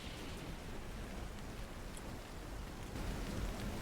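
Steady rain falls on a hilltop as a soft, even hiss of drops, faint and continuous with no voices, swelling slightly toward the end.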